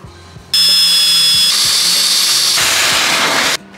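A power drill boring holes for hood pins on a C10 pickup: a loud, steady high whine that starts abruptly, shifts pitch twice as it bites through the metal, then stops cleanly after about three seconds, with no talking.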